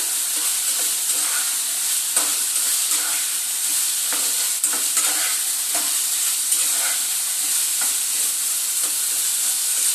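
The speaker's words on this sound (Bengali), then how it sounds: "এবার কেটে রাখা সজনার ডাটাগুলোকে দিয়ে দেব মশলার সঙ্গে ভালো করে কষিয়ে নেব" Drumstick stems stir-fried with spices in oil, giving a steady, close sizzle with bursts of scraping and stirring that run through the whole stretch without talk.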